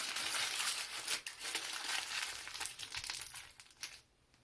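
Aluminium foil wrapped around fifteen pennies is crumpled by hand, a dense continuous crinkling and crackling at close range that thins out and stops near the end.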